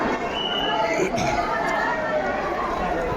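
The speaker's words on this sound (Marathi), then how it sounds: "गर्दी केलेली" A crowd at a Mahadev temple chatters steadily, a dense and continuous murmur of many overlapping voices close by, with no single voice standing out.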